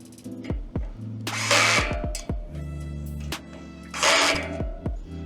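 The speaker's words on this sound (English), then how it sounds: "using a drill on ready-pack furniture" A power drill drives screws into flat-pack furniture in an office, with repeated close whirring bursts, rising pitch sweeps, and a couple of louder sustained runs between short pauses.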